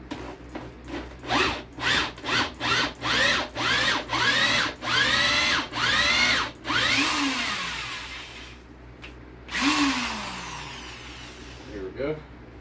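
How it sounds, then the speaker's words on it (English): A Black & Decker power drill whines in a rapid series of short trigger bursts while driving into a bottle lamp project, close and loud, ending with a longer run and a few scraping sounds. "Always have a good drill. This one, I mean, it's Black & Decker, it does pretty good."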